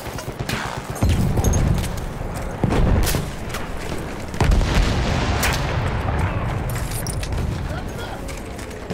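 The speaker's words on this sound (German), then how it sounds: "Hier ist eine Granate!" Battlefield 1 combat with a grenade explosion and heavy battlefield booms, repeated loud blasts and gunfire rumbling close over a continuous din of war, while soldiers shout in German.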